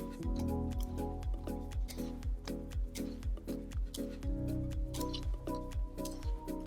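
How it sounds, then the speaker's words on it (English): A wire whisk stirs whipped cream and meringue into raspberry puree in a bowl, giving steady, rapid rhythmic clicking and scraping strokes, close and fairly loud, with no voices. "With the whisk, you can combine them faster and you can also eliminate lumps of whipped cream a lot easier with the whisk."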